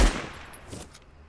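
One sharp gunshot in the Fortnite video game opens with a hard crack, then decays into a short fading tail with a faint second echo.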